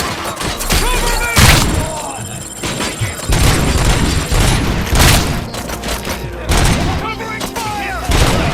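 Gunfire in RoboCop: Rogue City, a loud, dense fusillade of repeated shots, booms and impacts in close combat, with shouted voices mixed into the fighting.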